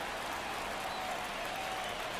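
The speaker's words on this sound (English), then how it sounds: "Crowd locked in right now." Steady stadium crowd applause and cheering from the MLB The Show 24 baseball video game, a continuous wash of clapping and noise with no breaks, as the closer pitches in a late-inning moment.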